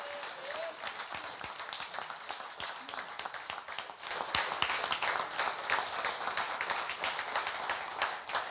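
A seated audience rises to its feet in a sustained standing ovation after a dance performance at a formal session, dense clapping that swells and grows louder midway, with faint voices mixed in.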